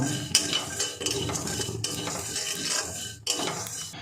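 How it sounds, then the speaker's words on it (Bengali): Poppy seeds are stirred in a dry wok, giving a steady scraping and rattling of a utensil against the metal pan with a few sharper knocks, close and fairly loud, with no talk. "এটাকে শুকনো কড়াইতে একদম সামান্য একটু নেড়ে নেব"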